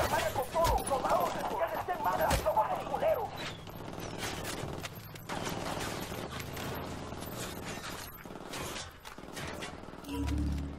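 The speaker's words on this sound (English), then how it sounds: "I'm getting shot, you're not even telling me." In Ghost Recon Wildlands, rapid bursts of gunfire crack in sharp, irregular volleys, loud at first and then continuing more sparsely under background game noise.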